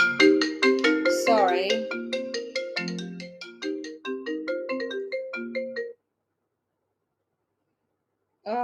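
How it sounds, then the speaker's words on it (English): A mobile phone ringtone rings out loud and melodic, a repeating tune of bright tones that plays for about six seconds and stops, then starts again right at the end; a person apologises briefly over it. "I thought my phone was on silent, but it's obviously not."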